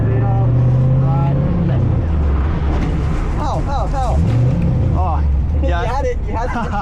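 A car engine revs and drones loudly with rising and falling pitch during a drift school session in Australia, close inside the cabin, with people talking over it throughout.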